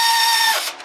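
A ratchet tightening a 15mm bolt during a timing belt job on a 2000 Ford Fiesta 1.25, heard as one short close clicking burst that stops abruptly.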